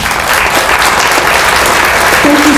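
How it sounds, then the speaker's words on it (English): A loud round of applause from the crowd at a county candidate forum in Alberton, steady and dense throughout. "I believe that these gentlemen deserve a round of applause."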